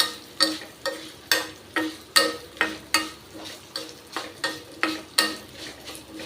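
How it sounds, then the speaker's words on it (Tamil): Grated coconut roasting in a dry pan, stirred with a spoon in a steady run of about fifteen scraping strokes, close and clear over a faint sizzle, no speech. "தேங்காயை போட்டு வறுக்கணுங்கிறதுல ஆஃப் பண்ணிடுறேன்"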